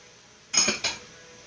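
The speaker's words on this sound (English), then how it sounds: "we'll give those a good stir" Mushrooms coated in butter are stirred in a pan, giving two quick metallic scrapes and clinks of a utensil against the pan, close and brief, with quiet kitchen background around them.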